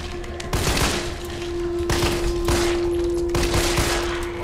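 A G18 automatic pistol in Resident Evil 3 fires three loud rapid bursts, each a quick rattle of shots over a steady background hum.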